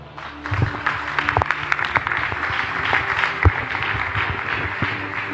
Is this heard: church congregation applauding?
yes